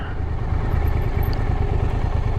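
Triumph America cruiser motorcycle engine, heard during a winter ride, running with a steady low rumbling throb, loud and close, with no talk over it.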